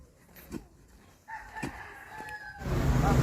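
A rooster crows at close range among chickens, with a few clucks before the crow and a loud rush of noise closing it out.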